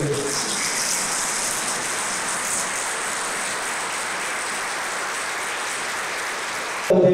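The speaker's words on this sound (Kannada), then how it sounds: "ಖಂಡಿತವಾಗಿ ಕೂಡ ನಾವು ಅವರಿಗೂ ಕೂಡ ಎದ್ದು ನಿಂತು ಚಪ್ಪಾಳೆ ಮೂಲಕ ಸ್ವಾಗತ ಕೊಡಬೇಕು." A hall full of people rises to give a standing ovation to a departing district collector at a farewell gathering in Ballari, dense continuous clapping that stays steady and loud, then cuts off abruptly at the end.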